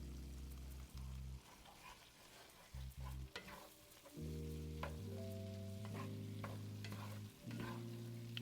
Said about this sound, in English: And just keep stirring it.